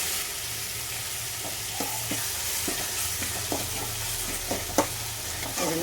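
Onions, tomatoes and curry leaves sautéing in a pan for cauliflower kurma give a steady, bright sizzle throughout, with soft spoon taps and stirring scrapes scattered across it, close and continuous, with no speech.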